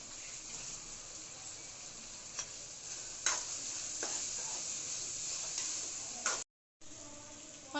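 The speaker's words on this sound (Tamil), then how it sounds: "மஞ்சத்தூள், உப்பு சேர்த்து நல்லா மிக்ஸ் பண்ணிக்கலாம்." Crab curry being mixed with turmeric and salt in a pan, giving a steady soft sizzle with scraping stir strokes and a few sharp clicks of the spoon, close and continuous with a brief gap.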